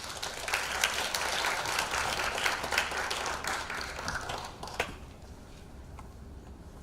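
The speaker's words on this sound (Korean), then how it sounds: "우리 이범 선생님을 큰 손뼉으로 모시도록 하겠습니다" An audience at a Korean education forum applauds to welcome a lecturer, dense sustained clapping for about five seconds before it thins to scattered claps.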